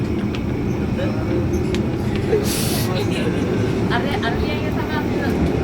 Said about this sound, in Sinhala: කෝච්චිය යනවා.